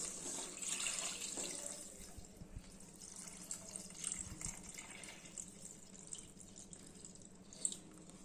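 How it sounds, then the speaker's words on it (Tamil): Water pours steadily from a tap into a pot of chicken biryani, a soft continuous splashing with a few small drips and clinks. "இப்போ நம்ம தண்ணியை ஊற்றிக்கலாம்"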